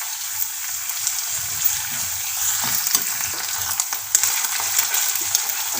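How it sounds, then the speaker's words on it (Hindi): Garlic ginger paste sizzles loudly in hot oil in a pan while being stirred for an aloe vera vegetable dish, a steady close crackle with occasional sharper pops and scraping stirs. "अब हम लहसुन अदरक का पेस्ट मिला देते हैं इसमें और इसे भी भून लेते हैं।"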